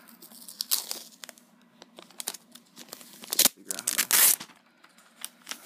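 A Mac Mini is unwrapped from its packaging, making bursts of crinkling, tearing and rustling wrap, with some louder crunches near the end and pauses in between.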